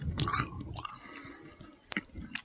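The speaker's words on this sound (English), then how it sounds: "Here's the sound of the crunch from the baked zucchini chips." Close, crisp crunching as baked zucchini chips are bitten and chewed, a few sharp cracks standing out from softer munching.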